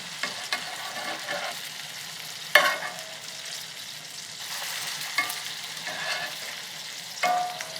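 Mustard greens sizzle and crackle in melted butter in a pan, with soft popping bursts and occasional stirring clatter, close and moderately quiet, no voices.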